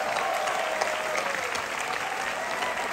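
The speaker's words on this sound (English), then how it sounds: "Give them a round of applause." A concert audience gives a warm round of applause, a thick, even wash of many hands clapping at moderate volume with no voices on top.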